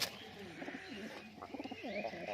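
Pigeons, fancy high-flying breeds kept in a Murshidabad loft, cooing in soft repeated throaty bursts, fairly close and quiet, with a little background noise and no clear talk.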